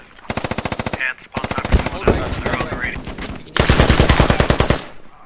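A .50 cal machine gun in Squad fires loud, rapid bursts in close succession, with a voice speaking briefly between the bursts.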